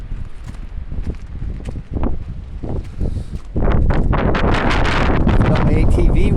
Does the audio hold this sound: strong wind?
yes